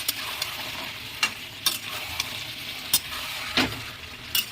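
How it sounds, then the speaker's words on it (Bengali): Chicken curry is stirred in a pan, with intermittent scraping clicks of a spoon against the metal over a soft background sizzle, a handful of sharp strokes spaced irregularly and close by. "আগলা করে নাড়িয়ে নেবো"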